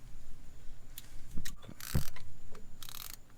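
A ratchet snugs down a 15mm bolt on a driveshaft loop under an S550 Mustang, giving short, quiet runs of mechanical clicks spread across a few seconds in a garage.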